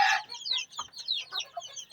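A rooster and hen cluck and chatter close by, a quick run of short overlapping calls with a brief louder squawk at the start.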